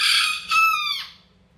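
A nearby rooster crows once, a loud drawn-out cock-a-doodle-doo that swells midway and then fades out, heard alone.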